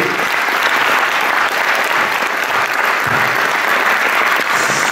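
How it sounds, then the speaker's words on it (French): Audience at the Forum des Images applauding named guests at a Dario Argento event, loud sustained clapping from a large crowd, continuous and even throughout. "je vais vous demander d'applaudir ceux que j'ai nommés jusqu'à présent."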